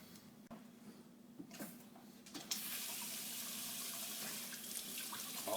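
A newly installed kitchen faucet turned on, starting with faint clicks and handling noise, then a steady, loud rush of running water into the sink.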